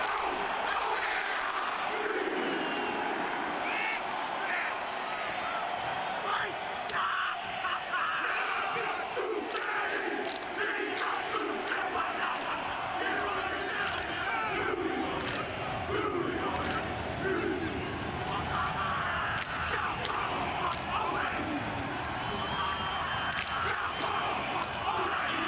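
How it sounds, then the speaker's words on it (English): A large crowd at a Palestine rally chants and yells continuously, a dense roar of many voices with rhythmic surges and shouts, steady and loud throughout. "Listen to the fucking crowd on it, man."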